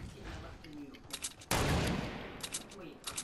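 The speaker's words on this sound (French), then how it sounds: "Oh, j'ai mis une balle de snipe." A sniper rifle shot rings out in the video game Fortnite, one sharp loud crack with a rolling tail, set among quieter game sounds and faint clicks.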